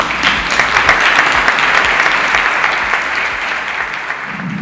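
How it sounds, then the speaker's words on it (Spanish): Loud, full applause fills a summit welcome session as a speaker is introduced, a steady wash of many clapping hands that eases slightly near the end. "Un aplauso, por favor, para Carolina Deck."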